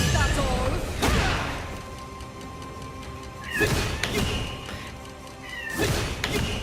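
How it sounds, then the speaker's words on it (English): A pet cat yells in the background with a few drawn-out, wavering cries spaced several seconds apart, mid-level in volume, over a steady room hum and occasional thumps. "I'm getting distracted by my cat yelling in the background"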